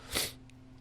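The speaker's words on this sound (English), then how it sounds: "that was me sneezing." A person sneezes once, close and sharp, breaking a quiet room with a faint hum; no talking follows.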